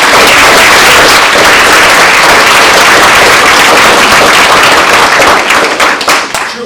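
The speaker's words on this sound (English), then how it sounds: "So everyone give him one more round of applause." Close, very loud round of applause for a final lecture award recipient, dense rapid clapping from an audience that holds steady and then begins to thin out at the very end.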